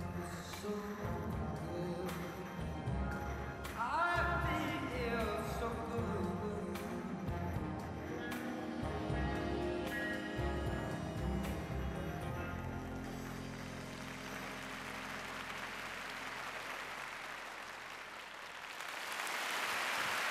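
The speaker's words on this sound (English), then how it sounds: "Sympathetic applause." Arena crowd applause at a men's short program figure skating competition, the NHK Trophy 2020, starting under the skating music in the first half and swelling into steady broadband clapping as the music fades out.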